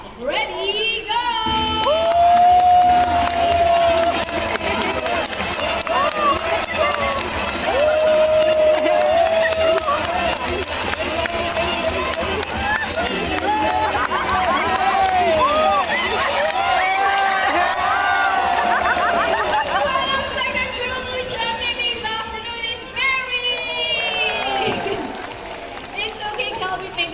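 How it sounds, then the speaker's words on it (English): Crowd at a bird show cheering and shouting loudly and steadily for a macaw named Cocky, with children's high-pitched yells and whoops, a sustained roar of voices that holds for nearly half a minute, with an announcer's voice over it. "Cocky supporters, come on guys, you have to cheer louder."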